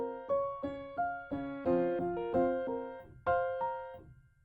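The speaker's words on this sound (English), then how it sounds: "I'm gonna just call it the steel pen effect from now on." A steel-pan-like melody produced by band-limited halftime processing on a trap beat loop, a series of bright struck tones with sharp attacks and ringing decays, about a dozen notes in an uneven rhythm, clean and close with no voices.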